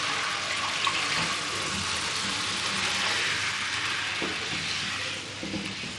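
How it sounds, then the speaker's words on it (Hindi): Chickpeas and water pour into a pan of fried masala for Kathiawari chole, a close, continuous splashing rush that tapers off with a few small clinks at the end. "अब मैं इसमें ऐड कर रही हूँ ये छोले और पानी है"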